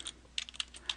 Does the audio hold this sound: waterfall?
no